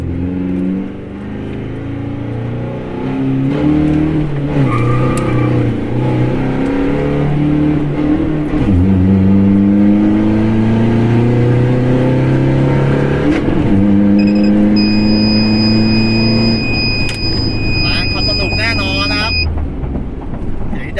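A 1.9 Blue Power pickup truck engine, fitted with a turbo and remapped, revs and accelerates hard, its loud droning pitch climbing in repeated gear pulls, with someone talking over it and a brief high whine near the end.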